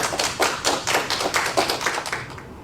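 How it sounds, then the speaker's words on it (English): A small group claps in uneven, scattered bursts of applause for award recipients at a bar association annual meeting held over Zoom, fairly close and moderate in volume with no talking. "Please join me in giving a round of applause to our award recipients."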